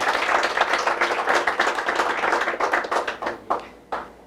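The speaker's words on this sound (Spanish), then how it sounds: "qué tal si le damos un aplauso a Dios por esta oportunidad?" A church congregation applauding, dense clapping that thins out toward the end into a few scattered claps.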